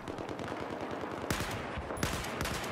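Battlefield 4 gameplay brings rapid automatic gunfire in quick bursts, with sharp reports and louder shots standing out against a continuous rattle of distant fire.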